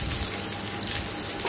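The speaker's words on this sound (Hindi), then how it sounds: "लो जी, तेल अपना गर्म हो गया, हुण इहदे विच पा दिता मैं जीरा" Cumin seeds sizzle in hot oil, a steady, even crackling hiss that stays close and constant, with no talk over it.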